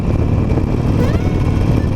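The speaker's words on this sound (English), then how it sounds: "revving a little high in third just because I'm going up a slight hill" A Harley Davidson Nightster motorcycle engine revs a little high in third gear while climbing a slight hill, a loud, steady low rumble close to the rider.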